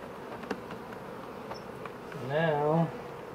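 Honeybees buzzing around a queen bee inside an open hive during queen marking, a close, steady insect hum with soft handling clicks and a brief rising buzzing whine near the end.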